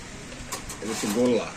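Pigeons cooing at a busy pigeon market, a short soft coo rising near the end amid background chatter and market noise.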